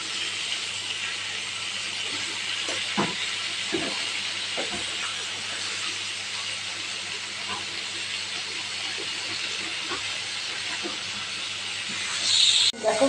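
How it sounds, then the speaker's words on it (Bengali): Pointed gourd (potol) frying in oil, a steady, moderate sizzling hiss with faint scattered pops and clinks, the noise swelling briefly near the end, with no talk. "পটলগুলো তেলের সাথে অনেকক্ষণ ভালো করে ভেজে নিতে হবে।"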